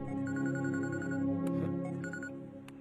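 A telephone rings while a call is being placed in a Hindi-dubbed action film, a tonal electronic ringing pattern heard over a dense musical score, moderately loud and sustained.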